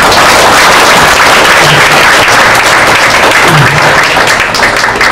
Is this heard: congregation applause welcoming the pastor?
yes